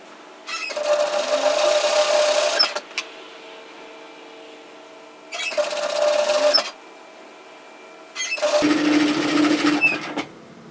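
A domestic sewing machine runs in three separate bursts of fast, steady stitching, each a couple of seconds long with quiet pauses between, while a pin-width seam is stitched on loose-fitting bib overalls.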